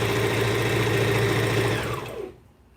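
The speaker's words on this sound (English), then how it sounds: "Now I'm going to do my back stitch like so." A sewing machine back-stitches fabric with a continuous close whirring hum for about two seconds, then winds down and falls quiet.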